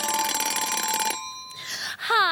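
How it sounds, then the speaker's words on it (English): A cartoon-style alarm clock rings in a triplets' shared bedroom at 7:30 in the morning: a loud, steady metallic jangle for just over a second, then whooshing sweeps and a rising, wobbly warble close by. "Every morning at 7:30, their alarm clock rang."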